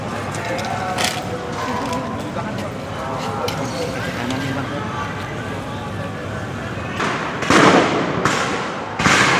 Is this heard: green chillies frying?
no